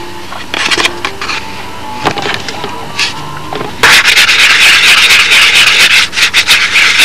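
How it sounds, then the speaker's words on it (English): Sanding wood with a big, wide sanding block, loud close rubbing strokes that start sparse and become a dense, continuous scrubbing in the second half. "As long as you use big, wide sanding blocks, that in essence should come out."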